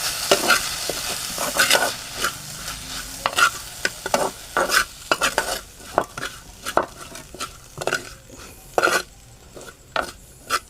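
A spoon stirs and sautés salted ground masala for ripe tomato chutney in a pan, giving a steady scraping and light sizzling with repeated sharp metallic clinks against the pan, close and alone.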